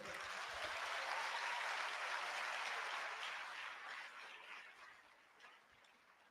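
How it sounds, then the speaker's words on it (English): Applause for newly qualified medical and dental practitioners at their induction ceremony, a steady crowd clapping that holds for a few seconds then gradually thins and fades away. "Can we give them a big applause?"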